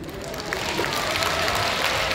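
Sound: audience applause at a concert hall

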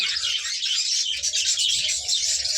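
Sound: budgerigars chirping in breeding colony

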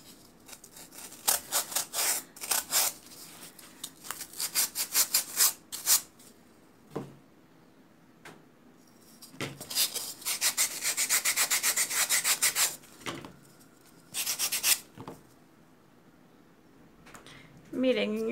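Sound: sanding a pumpkin table centerpiece

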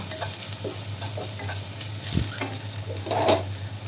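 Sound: stirring spices frying in pan

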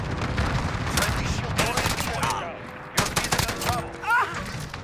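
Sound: gunshots from Modern Warfare video game

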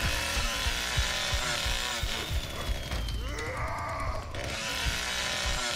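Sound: chainsaw revving in a Leatherface video game

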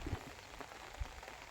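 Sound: rain falling on a rice field

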